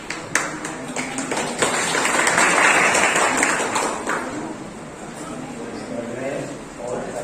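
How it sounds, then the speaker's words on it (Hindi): An audience claps at a Hindi Diwas celebration: a broad wash of applause swells around the second second and fades gradually, with voices talking over it throughout. "ताली वाली बजाओ भाई।"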